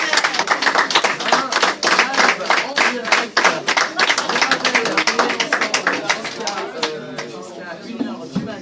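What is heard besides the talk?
studio audience applauding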